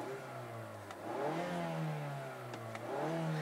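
A 2018 Mazda CX-9 Grand Touring crossover with a 2.5-liter turbo engine revs in smooth rising and falling swells, its drone climbing and dropping twice over a few seconds at a quiet, steady level.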